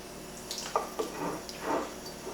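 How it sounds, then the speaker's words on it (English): Tap water runs over a clean dish towel in a kitchen, a soft, faint splashing and trickling with a few light drips, no voices. "I'm just going to give it a little bit of water on there."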